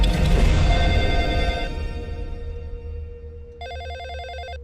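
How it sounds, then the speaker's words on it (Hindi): A telephone rings in a Hindi-dubbed thriller scene, with a louder noisy passage fading out before clear repeated electronic trills of the ringer sound alone. "फोन उठाओ ना"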